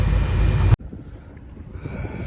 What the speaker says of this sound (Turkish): Rüzgar arttı.